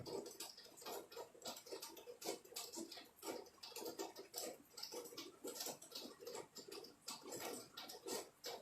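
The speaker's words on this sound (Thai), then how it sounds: "เสียงฝนตกครับ" Heavy rain falling nonstop at home, a dense steady patter with irregular sharp drips and taps throughout, close and continuous, no voices.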